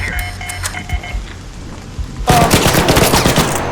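Gunfire in the shooter game ARC Raiders: scattered shots over a low hum at first, then a sudden loud burst of rapid automatic fire that rattles on continuously to the end.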